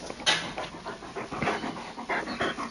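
A pet dog pants close by indoors, quick, breathy huffs in an uneven rhythm that run throughout at moderate loudness with no talking.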